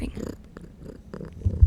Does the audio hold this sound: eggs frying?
no